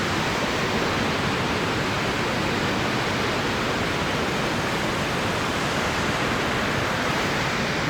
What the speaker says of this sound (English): here we are back at the falls at Brattfallet